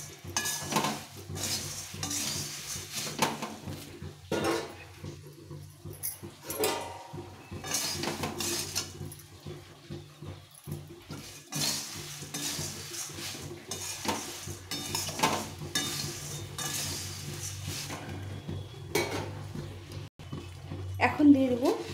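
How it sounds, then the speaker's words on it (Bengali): Puffed rice stirred and fried in a pan, with steady scraping of a utensil against the metal and faint sizzling running through, mostly continuous with brief pauses and a voice talking intermittently over it. "কিছুক্ষণ সময় ধরে এটাকে ভালো করে ভেজে নিতে হবে।"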